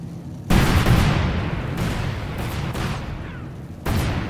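Bomb-drop explosions in Company of Heroes 2, a series of heavy, loud booms with rumbling, crackling tails, several overlapping blasts and a fresh hit near the end.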